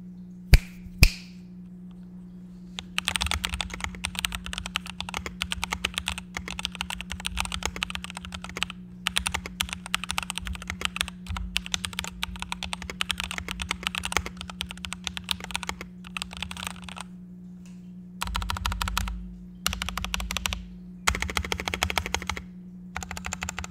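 Typing on an EPOMAKER EP84 keyboard fitted with Ink Black Silent V2 switches: rapid, dense muted key clacks in long continuous bursts with brief pauses, close up over a steady low hum.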